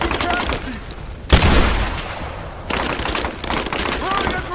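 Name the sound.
gunfire in video game Rise of the Tomb Raider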